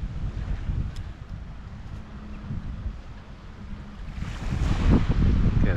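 Wind and waves on the Ligurian coast at Vado, a rumbling gusty rush with surging swells that swell louder near the end, no one talking.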